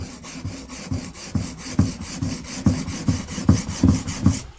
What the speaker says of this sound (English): we're no longer changing the shape here, we're now the actual sharpening